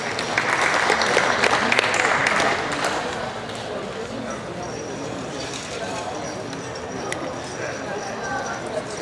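Audience applause at a Jersey heifer cattle show swells loudly at first, then thins into scattered clapping mixed with hoof clops and arena noise while an announcer talks over it.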